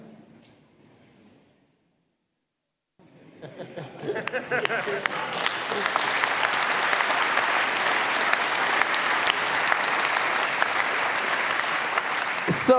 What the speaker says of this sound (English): let's give them again a warm round of applause